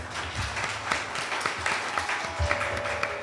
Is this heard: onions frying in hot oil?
no